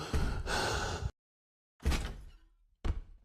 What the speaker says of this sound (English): The breathing is kind of, bothering me.